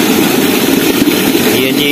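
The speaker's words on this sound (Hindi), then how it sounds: "इसके पीछे वो जो मोटर चल रही है वो है 20 हॉर्स पावर की मोटर है" A 20 HP solar-powered tubewell motor hums steadily while pumping water through a 7-inch pipe, a loud continuous drone with rushing water, and a brief voice is heard over it.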